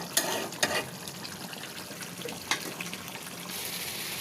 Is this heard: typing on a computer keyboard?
no